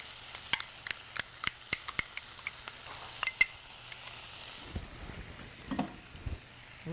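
Ingredients for a steak sandwich sizzle in a pan, a steady frying hiss under a series of sharp utensil taps and scrapes as they are stirred, with no voices.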